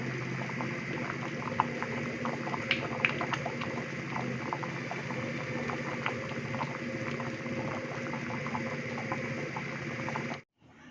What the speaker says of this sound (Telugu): పప్పు అయితే ఉడికిందండి